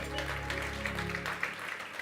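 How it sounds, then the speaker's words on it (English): Scattered applause from a crowd at a Baroka FC sponsor launch event, moderately faint, fading out after a couple of seconds. "Let's give her a round of applause."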